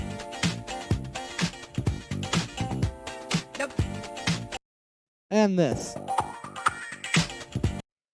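A boogie disco-funk sample loops at 125 BPM with dense beats and chords, drops out for under a second, then returns. A voice speaks briefly over it.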